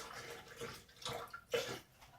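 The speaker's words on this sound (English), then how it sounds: "we'll put about a cup of coconut water that we had left over from our coconut" Coconut water is poured into a container while making almond coconut yogurt, a soft, close splashing and trickling that swells and fades in short pulses.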